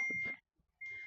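A mobile phone gives a short electronic notification beep, a bright steady tone that stops, pauses briefly, then sounds again, close by in a quiet room.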